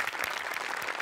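The audience at a Marathi comedy stage show, Maharashtrachi Hasya Jatra, bursts into loud, close, continuous clapping that carries through the whole second.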